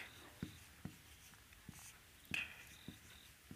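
Handwriting a solution to a class 8 maths problem, faint pen strokes and taps on paper spaced irregularly, with quiet scratching between them and no voices.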